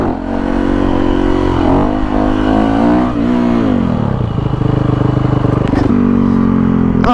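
A 2017 Yamaha WR450F supermoto revs and pulls away close to the listener. Its single-cylinder engine note climbs, drops and climbs again as the rider swerves, loud and continuous with rattling mechanical clatter.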